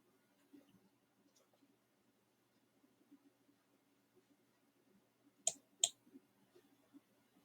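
A computer mouse gives two sharp clicks in quick succession, close but quiet, after several seconds of near silence.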